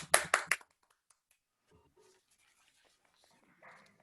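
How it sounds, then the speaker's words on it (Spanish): A church congregation gives a quick round of applause during a sermon, a short burst of several sharp claps followed by near silence and faint voices. "Vamos a darle un aplauso al Señor"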